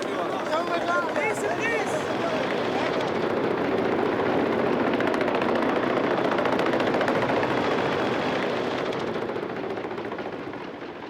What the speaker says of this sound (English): He's popping shots off.